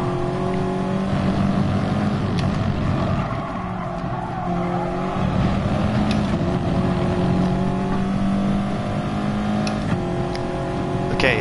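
Race cars in Gran Turismo Sport drone and whine steadily with engine revs and tire squeal, loud and continuous throughout.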